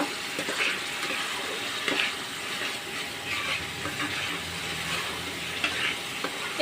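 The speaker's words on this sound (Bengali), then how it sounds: "এটাকে কিছুক্ষণ সময় নিয়ে কষাইতে হবে, যতক্ষণ না মশলা থেকে একটা তেল বের হয়ে আসতেছে ততক্ষণ পর্যন্ত এটাকে কষিয়ে নেব" Spice paste for a pangas fish curry fries in oil with steady sizzling and repeated scraping stirs, close and continuous throughout.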